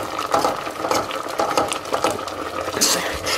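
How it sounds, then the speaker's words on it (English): A spoon stirs lentil soup with spices in a cooking pot, giving soft, uneven scraping and sloshing sounds in a steady close-up rhythm, with no talking. "just give that a really good mix through to start incorporating some of those flavors"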